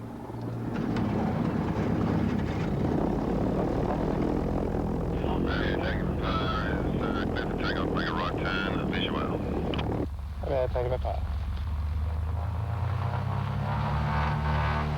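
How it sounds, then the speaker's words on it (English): A steady, loud propeller engine drone from a Britten-Norman Islander aeroplane, with a low throbbing hum filling the whole stretch, while people talk faintly underneath. "it's a Britten Norman Islander. Very well-built British aeroplane."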